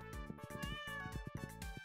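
A cat meows in the farming game Stardew Valley, a few short cries over steady game music, fairly faint.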